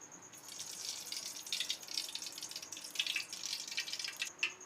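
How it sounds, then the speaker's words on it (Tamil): Cooking oil pours into a kadai for tempering sambar, a steady, soft trickling stream heard up close with no talk. "ஆயில் ஊற்றிக்கலாம்."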